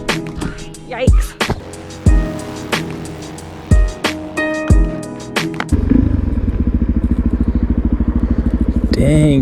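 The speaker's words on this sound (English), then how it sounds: "I just want to go back to basics and have fun taking the motorcycle for a spin" A Suzuki DRZ supermoto motorcycle engine revs and runs nearby, with sharp clattering knocks early on before settling into a steady, loud rumble.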